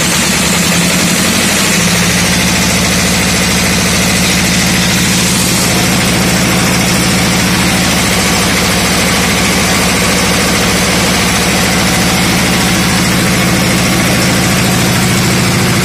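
Three-phase generator running with a burnt slip ring that sparks, giving a loud, steady engine drone with a low hum and vibration that holds throughout, starting up in the first couple of seconds.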